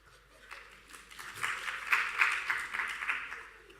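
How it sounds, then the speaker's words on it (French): A theatre audience bursts into applause, building from scattered claps to a fuller, steady patter of many hands, moderately distant and fairly soft. "Applaudissez pour Kearns."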